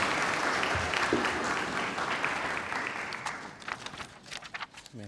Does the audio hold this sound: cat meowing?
no